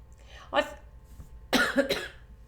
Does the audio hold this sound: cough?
yes